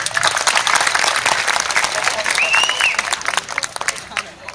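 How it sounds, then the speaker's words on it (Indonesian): An audience applauds at a Balinese children's bondres comedy performance, with dense, loud clapping over crowd murmur and a voice speaking on top. "Tolong tepuk tangan dulu untuk penonton acara kami."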